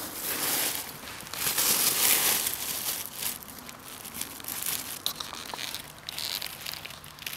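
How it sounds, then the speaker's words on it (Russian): Freshly stripped fireweed leaves are pushed into a plastic bag, giving close, irregular crinkling and rustling that swells and fades over several seconds without talking. "Ложим в пакетик листья."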